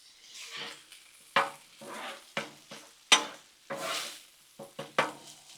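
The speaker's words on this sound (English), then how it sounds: "let's let this hamburger meat right here just brown up just a little bit" Hamburger meat browning on a Blackstone griddle, with a spatula scraping and clanking against the flat top in sharp bursts over a soft, steady sizzle.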